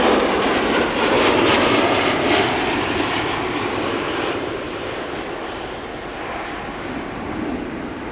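A Ryanair airliner's jet engines roar at Amsterdam Schiphol airport, a loud broad rushing thunder that slowly fades as the aircraft moves away, with no talking.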